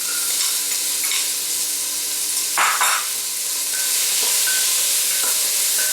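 Celery for a five-bean vegan chili being stirred in a hot pan, steady loud sizzling hiss throughout with one brief louder scrape of stirring near the middle, no talking.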